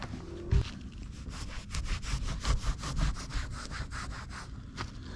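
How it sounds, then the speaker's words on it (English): Cloth rubbing the underside of a Shelby GT350 with alcohol, heard as a steady run of close, rhythmic scrubbing strokes, each a soft rasping sweep repeating about twice a second. "Let's start wiping."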